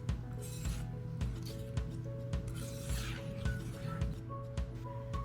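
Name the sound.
mixing cooked tart filling with vanilla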